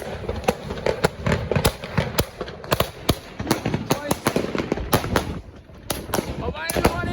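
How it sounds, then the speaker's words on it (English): A consumer firework cake called Infinity fires a rapid series of sharp bangs and crackling bursts at a New Year's show, irregular pops following one another over several seconds with voices faint in the background. "this is the firework that we bought. I hope you can hear me. So this is firework called Infinity."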